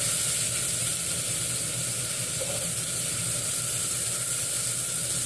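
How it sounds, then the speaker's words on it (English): Food sears in a very hot oiled pan, giving a steady, loud hissing sizzle that stays even throughout, close and with no talk. "you want to get your pan as hot as you can because you want to get that sear"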